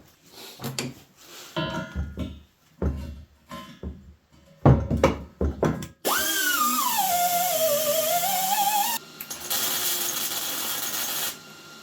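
Power tool grinding steel clean before casters are welded on for a DIY car rotisserie: a run of clanks and metal knocks first, then a loud sustained whine that dips and rises, pauses briefly and resumes.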